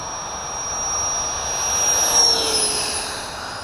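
Freewing F-104 90mm electric ducted-fan model jet landing on a runway, its steady high-pitched turbine-like whine holding fairly loud throughout and swelling slightly midway, with no talking.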